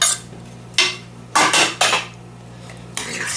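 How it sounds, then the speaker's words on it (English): Chopped onion is stirred into a pot with a spoon, giving several close, loud scraping and clanking strokes in uneven bursts against the metal, with no talking. "Stir that in there"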